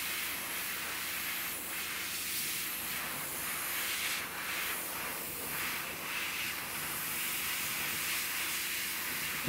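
An airbrush sprays ghost tint paint straight from the bottle onto a 1/4-scale custom figure, giving a soft, steady hiss that runs unbroken and fairly quiet from start to finish.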